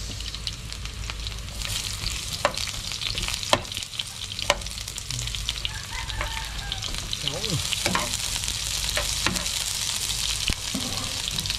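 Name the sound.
garlic and onion frying in a pan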